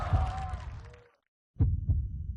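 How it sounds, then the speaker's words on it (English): A heartbeat sound effect within a music performance: deep low thumps pulse under a sustained tone, break off into about half a second of silence, then return as two heavy beats in a steady double rhythm. "I like the heartbeat."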